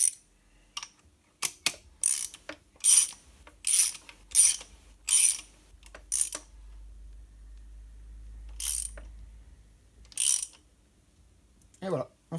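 Spark plug socket ratcheting as a spark plug goes into a Renault Clio 2 petrol engine: a series of sharp, close ratchet clicks in short bursts separated by pauses, with a brief voice near the end.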